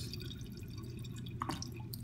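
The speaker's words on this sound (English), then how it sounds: "As you add water, then it starts siphoning it, then it completely" Water trickles and drips as it siphons and drains out of the detergent dispenser cup of an LG washing machine, soft close droplets with a brief burst of splashing near the end.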